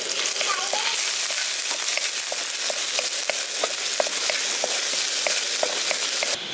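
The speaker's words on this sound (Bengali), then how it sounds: "এবার তেলটার মধ্যে আমি এখানে 1 চামচ রসুন কুচিয়ে নিয়েছি, এবার রসুন কুচানোটা দিয়ে দিচ্ছি।" Chopped garlic and green chili sizzle steadily in hot oil for a village-style Maggi Manchurian, a dense continuous frying hiss with small crackles and pops throughout, close and fairly loud with no talking.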